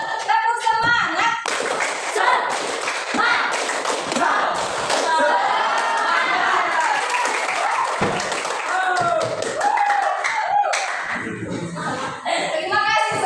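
A school class performs the rhythmic 'tepuk semangat' spirit clap, sharp hand claps in quick patterned bursts mixed with children's voices chanting along, loud and close in a classroom.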